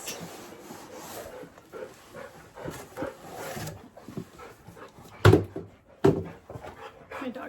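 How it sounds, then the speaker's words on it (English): Several dogs playing together indoors, with scuffling, rubbing and low growl-like noises throughout, then two sharp, louder bursts near the end. "My dogs are playing, kind of ruins the mood"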